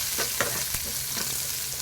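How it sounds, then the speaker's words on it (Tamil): Chopped onion sautéing in oil with dried chilli and curry leaves for a beans and egg poriyal, a soft continuous sizzle broken by a few quick spatula stirs, close but fairly quiet. "வெங்காயத்தை லைட்டா வதக்கி விட்டுக்கலாங்க."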